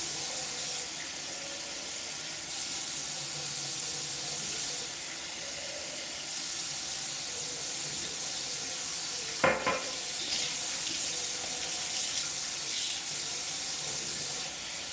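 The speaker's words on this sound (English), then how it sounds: "what I do when I stick my head under the faucet" Cold water runs from a faucet over a person's head and hair in a steady, loud, close hiss, with one brief splashing bump partway through.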